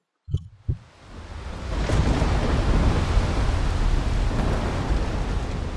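A couple of sharp thumps are followed by a deep, rolling rumble of thunder that swells into a loud, sustained roar of heavy rain during a storm.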